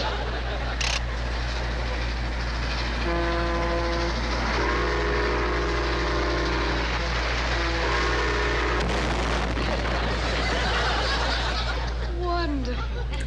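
Lionel O gauge toy trains running on track, with a steady low rumble beneath harmonic tones and clatter that swell and fade, while people talk and laugh over it.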